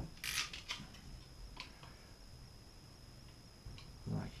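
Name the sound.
cutting a piece off a plastic pipe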